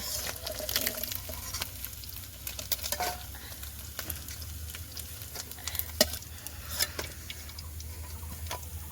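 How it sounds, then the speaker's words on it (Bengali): Small puti fish fry in a pan with a steady, close sizzle, broken by irregular ticks and pops of spattering oil and stirring, with no talking. "এই পুঁটি মাছ ভেজে রাখছি অল্প করে"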